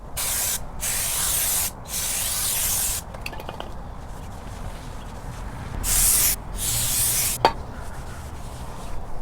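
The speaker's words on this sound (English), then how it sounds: "I'm going to use some brake cleaner and I'm going to clean off both sides of this rotor" Brake cleaner sprays in several bursts of hissing onto both sides of an FJ Cruiser brake rotor, with short pauses between blasts, close and fairly loud.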